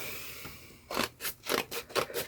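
Paper and old Christmas cards being cut down, a series of about seven short crisp cutting bursts in a quick uneven rhythm, close and moderately loud with no talking.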